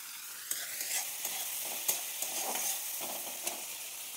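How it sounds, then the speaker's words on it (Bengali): Chopped tomatoes frying and being stirred in a pan for a taro flower curry, a steady close sizzle with scattered scraping stirs and clinks throughout. "আমার ভেজে নিয়েছি, এখন দিয়ে দেব টমেটো কুচি।"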